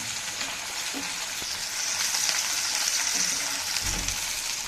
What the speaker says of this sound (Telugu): నూనెలో నుంచి ఒక్క రెమ్మ కరివేపాకు వేయించుకున్నాను